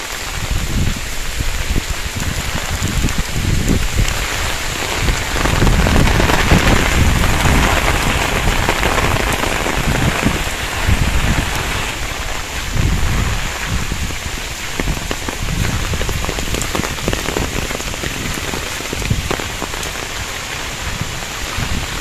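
Heavy rain pours steadily during Cyclone Sitrang in Bangladesh, a dense, continuous roar of drops hitting surfaces and standing water, loud and close throughout with no voices.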